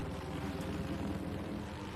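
A helicopter in the video game Battlefield 4 in a snowy setting: a steady, loud rotor and engine drone that holds throughout without a break, with no talk over it.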